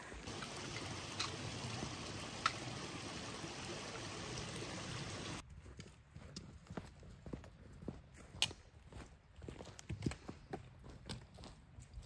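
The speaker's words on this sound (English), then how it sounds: "The first creek crossing of the AT!" Creek flowing at a trail crossing on the Appalachian Trail, a faint steady burble that cuts off partway, followed by quiet footsteps and brushing sounds.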